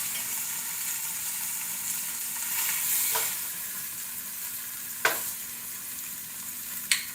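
A pot roast sears in a hot pan, giving a steady broad sizzle throughout with a couple of sharp clicks or scrapes near the end, no voices.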